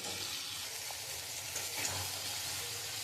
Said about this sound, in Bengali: আমি মশলাটা দিয়ে একটু কষিয়ে নেবো ডিমটা।